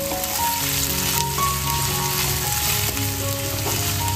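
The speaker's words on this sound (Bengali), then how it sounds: "এটা একটু আমি হালকা করে ভেজে নেব।" Onion and chili frying lightly in oil in a pan, a steady dense sizzle running throughout at close range with faint clinks and scraping layered over it.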